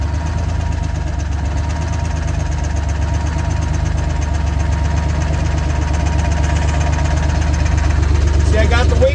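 A Diamond Reo truck's Detroit Diesel 6V71 engine idles loud and close, a steady low rumble with an even knocking pulse and rattling vibration the whole way through.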